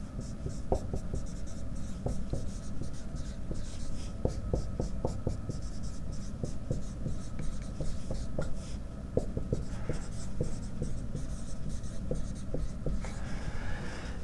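Pen or marker scratching steadily across a writing surface while an equilibrium equation is worked out, a long run of short strokes, taps and scrapes close by with no talking.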